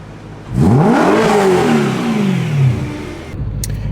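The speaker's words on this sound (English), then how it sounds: "Whoever wins this car is gonna love this exhaust." A BMW E92 M3 engine revs hard through an aftermarket exhaust, rising sharply to a loud peak, holding, then falling away, close and alone without talk.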